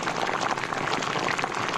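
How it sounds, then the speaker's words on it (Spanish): Water boils in a pot on a home stove, giving a dense, steady bubbling hiss that stays even throughout, with no voices. "Ese es el sonido de cuando se hierve el agua."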